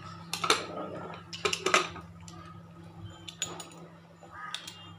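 A metal lid clatters onto a pressure cooker on a home kitchen stove, a few sharp clanks and scrapes of pot against metal, close by, with faint background noise between the bursts.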